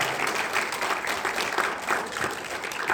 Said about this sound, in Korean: 다시 한번 오늘 귀한 강연 해주신 우리 이사장님께 큰 박수 부탁드립니다